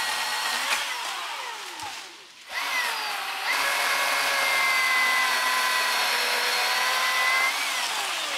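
A power tool, likely a chainsaw, cuts into a tree to clear an off-road trail in the woods, a loud whining engine that rises and falls in pitch with a short drop midway before running steadily again.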